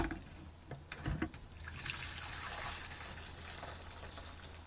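Hot water pours into a bowl as a steady, moderately loud rushing gush that runs continuously for several seconds after a few faint clicks, with no talking.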